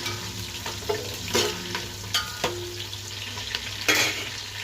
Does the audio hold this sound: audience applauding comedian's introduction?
no